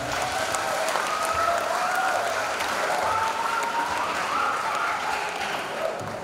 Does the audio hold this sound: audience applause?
yes